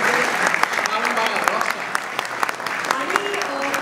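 An audience bursts into loud, dense applause, many hands clapping in a continuous rattling wash with a few sharper claps standing out, while a voice carries on faintly underneath.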